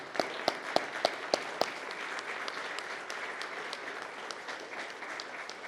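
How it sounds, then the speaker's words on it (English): A small group applauding, sharp individual claps at first, then thinning into scattered, lighter clapping that continues steadily throughout. "I'm going to give you and your team a round of applause, Dr. Clarkson."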